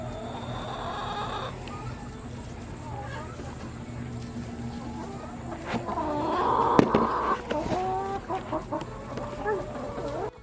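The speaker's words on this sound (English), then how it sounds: "Two chickens." Chickens cluck and warble in a barn at Polyface Farm, several calls rising and falling over a low background hum, with a few sharp knocks midway.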